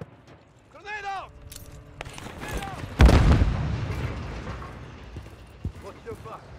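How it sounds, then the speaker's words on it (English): A grenade bursts in a heavy, close boom in Call of Duty: Modern Warfare III multiplayer, amid scattered gunfire and game effects, with a shouted voice just before the blast. "Grenade out!"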